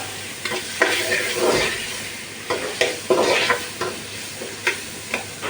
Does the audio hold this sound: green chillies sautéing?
yes